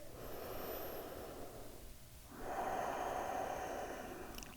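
Deep breathing during a stretch: a long slow exhale, a brief pause, then a deeper, louder inhale, close and soft.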